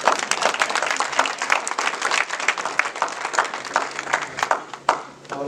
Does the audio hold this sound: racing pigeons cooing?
no